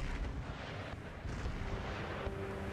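Cannon artillery fire in Empire Total War, a dense, rumbling barrage of booming shots blending into a continuous roar of battle, loud and sustained.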